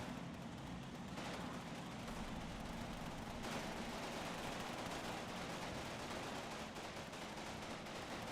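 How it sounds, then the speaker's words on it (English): German machine guns and mortars firing in a wartime assault on a wood, a dense, continuous crackle of rapid gunfire with heavier bursts mixed in, loud and sustained throughout. "the German machine guns and mortars are still very much active"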